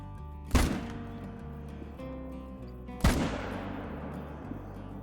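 Two loud, sharp hunting rifle shots ring out at whitetail bucks in a hunting video game, spaced a few seconds apart, each followed by a rolling echo over a steady low background hum.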